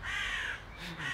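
A crow caws loudly and close by, giving a couple of harsh, drawn-out calls in quick succession.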